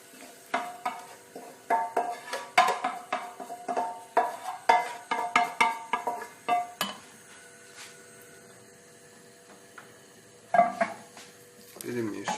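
Beans get stirred into a cooked mixture in a pot: a run of quick, close clinks and scrapes from a spoon against the pot, then a quieter stretch with a low hum before a couple more stirs.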